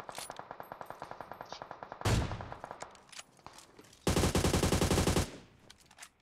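Gunfire in the PUBG video game: a fast rhythmic run of automatic shots, then a heavy burst and a second dense full-auto volley, loud and close with short pauses between.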